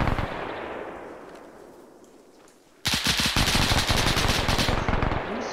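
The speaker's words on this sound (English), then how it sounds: "Who's firing that fucking MG?" A machine gun fires in a World War II video game, a loud, sustained rapid burst that follows a fading rumble and an abrupt cut.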